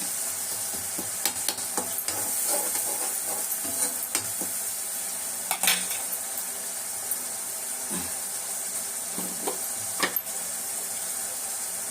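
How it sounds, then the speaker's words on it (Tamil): Ingredients for a puli kuzhambu with athikai and paruppu urundai sauté in oil in a pan, giving a steady close sizzle with occasional stirring scrapes and light clinks throughout. "எண்ணெயிலே வதங்குது"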